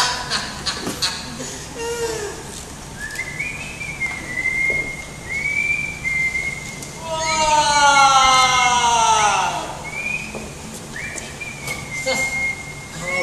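A man whistles a wandering melodic tune, with a long stretch of rising, layered whistled notes in the middle and a few brief voice sounds near the start, fairly loud and close.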